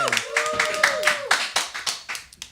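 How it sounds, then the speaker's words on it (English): Audience clapping at Thursday Night Tea, a salon-style evening show, with scattered hand claps that rise and fade over a couple of seconds while a voice talks over the start. "Give Thursday Night Tea a round of applause, ladies and gentlemen"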